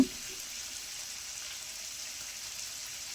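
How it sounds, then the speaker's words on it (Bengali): Chicken pieces cooking with spices in a pan over very low heat give a steady, soft frying hiss that holds evenly from start to end, with no talking. "এ পর্যায়ে চুলার আস একদম কমিয়ে এই চিকেনটাকে আমি মশলার সাথে দুই মিনিট কষিয়ে নিব"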